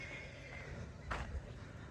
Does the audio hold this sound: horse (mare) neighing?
yes